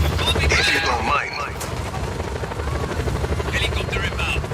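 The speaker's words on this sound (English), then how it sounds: "Helicopter inbound. Heading to AO." A helicopter in the video game Just Cause 4 thunders with loud, steady rotor chopping throughout, joined by bursts of gunfire, with a radio-style voice speaking over it early on.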